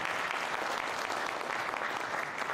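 Audience applause at a commemorative gathering honouring women taking part in debate, a steady wash of clapping hands, fairly distant and quiet but unbroken throughout.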